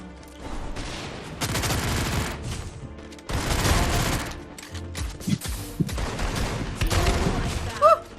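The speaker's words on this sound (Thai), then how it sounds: "เอ๊ะใครมันยิงทางโน้นอีก" Bursts of rapid gunfire and explosions from a game, loud and dense, coming in several waves with short gaps between them.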